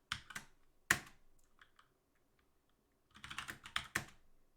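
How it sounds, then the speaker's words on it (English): Quick bursts of typing on a computer keyboard, close and crisp, with clustered keystrokes at the start, a quiet pause in the middle, then another rapid run of keys. "I'm just typing text."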